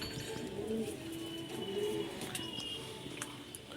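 Pigeons in a home loft coo steadily throughout, a continuous layer of soft, low, throaty calls with a few higher chirps scattered over it, close and moderately loud with no talking.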